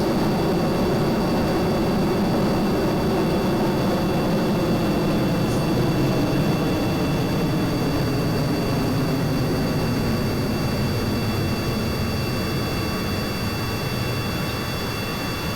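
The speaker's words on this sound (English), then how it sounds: "Turn on those aero spikes." Aerospike rocket engines firing on a spaceplane in Kerbal Space Program, a steady, loud, broadband roar that holds unbroken and alone for the whole stretch.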